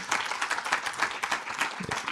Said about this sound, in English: Let us get a hand clap for Dr.